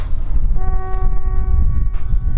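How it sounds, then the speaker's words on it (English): A loud horn blares in a long sustained tone close by at a marina, breaking off briefly before sounding again over a low rumbling background. "somebody with the horn over there."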